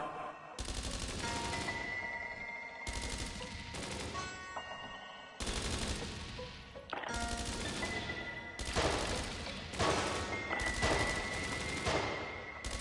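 Sustained machine-gun bursts during an ambush in the video game Dreams of Another: five long, loud volleys of rapid gunfire separated by short pauses, with no talking.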